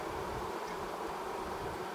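Honeybees buzzing at an open hive, a dense continuous drone that stays even and close throughout, with no voices.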